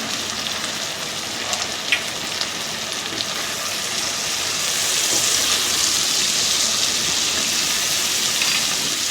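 Spices sizzling steadily in a hot pan while being stir-fried for a Bengali moya fish curry, a dense, even hiss that swells slightly partway through, with no talking.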